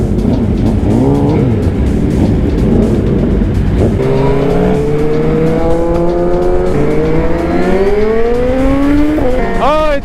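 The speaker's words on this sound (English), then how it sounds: "And those are the S1000s that are revving it like that." Several BMW S1000 motorcycles rev their engines loudly as a group readies to set off on a city ride, sharp rising and falling revs stacking up close by over a steady engine roar.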